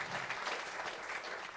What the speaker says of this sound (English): let's give a big round of applause for all the pitches today.